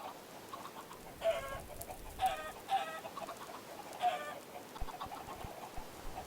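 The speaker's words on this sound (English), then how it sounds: "adult chickens will then pop out the top and run over the netherrack and hopefully get cooked" Blocky Minecraft chickens give four short clucks, spaced a second or so apart, over a steady low game ambience with no talking.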